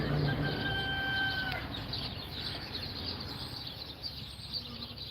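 A hen clucks nearby, low repeated clucks and murmurs over a steady hum of background noise, with a faint whistle-like tone early on.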